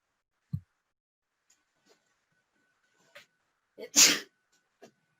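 A single sharp human sneeze, loud and close, preceded by a short intake of breath and scattered small breaths and mouth sounds in an otherwise quiet room.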